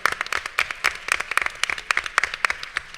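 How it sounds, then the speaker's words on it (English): An audience at a convention panel claps in sparse, uneven applause, individual hand claps standing out sharply and fairly close. "Give the organization an applause."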